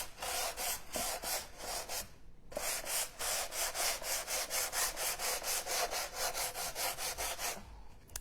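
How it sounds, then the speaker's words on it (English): Painted wood lightly sanded by hand with 100 grit sandpaper, a steady run of fast back-and-forth rasping strokes, close and fairly loud, with a brief pause before the rhythmic scraping resumes. "I'm using a 100 grit piece of sandpaper"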